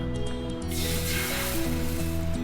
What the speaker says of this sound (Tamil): இப்போ நம்ம ரெடி பண்ண நீர் தோசைக்கான பச்சரிசி மாவு நம்ம இடலாம்.